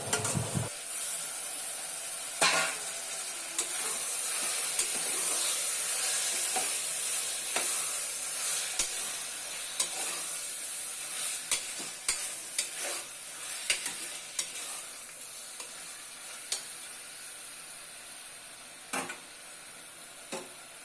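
Cleaned, cut chicken pieces fry in a pan for a pepper chicken curry, giving a steady loud sizzle with scattered utensil scrapes and knocks throughout, and no voices.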